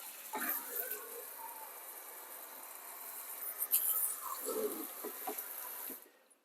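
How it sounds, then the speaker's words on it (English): Water running and splashing while a black granite sink is rinsed out, a steady close wash with a few soft knocks and patters, stopping abruptly near the end. "the next step will be to rinse the sink out and then dry it"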